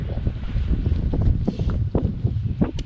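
Wet, gusty wind blowing outdoors at a remote wilderness cabin, buffeting the microphone with a steady rushing roar and irregular louder gusts throughout, no voices.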